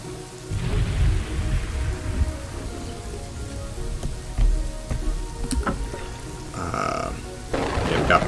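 Steady rainfall in the city-building video game Kingdoms and Castles, a constant hiss of drops with low rumbling underneath and occasional sharper ticks, filling the whole stretch without any talk.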